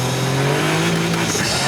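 Caterham 170S with its 85 horsepower engine pulls hard under way, a steady loud drone holding near and continuous throughout with faint tyre noise mixed in.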